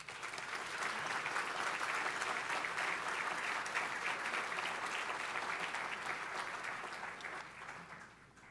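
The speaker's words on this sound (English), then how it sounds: "So let's applaud them all." Audience applause at a 2022 racial-justice benefit event, a steady dense clapping from a large crowd lasting several seconds, then thinning and fading toward the end.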